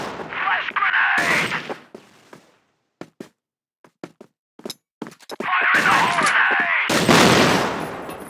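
A flash grenade goes off in a multiplayer shooter video game, a loud blast with a ringing hiss before and after a stretch of sparse knocks and shots, with players' voices around it.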